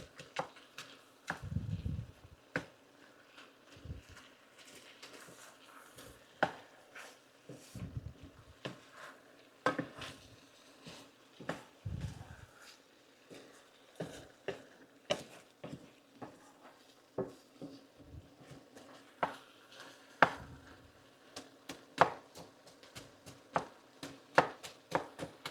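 Corn being chopped on a board for hamburger hash in a home kitchen, soft irregular knife taps and thuds with occasional louder knocks, close but fairly quiet, no talking.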